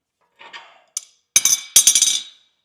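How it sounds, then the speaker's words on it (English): Several sharp metallic strikes ring out as a hammer bends a metal light bracket, a few separate taps followed by a quick cluster of close, bright blows with no talking. "Bend it down with the adjustable hammer."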